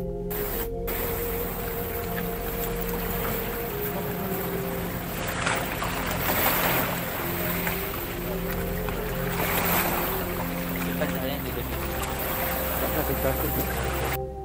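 Water washing at a seashore, a steady broad rush and spray of surf with a low rumble underneath that holds constant from start to finish.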